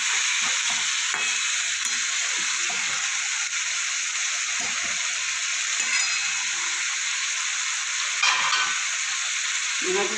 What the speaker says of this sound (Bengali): আলুটা দিয়ে দেবো দিয়ে এবার ভালো করে মিশিয়ে নেবো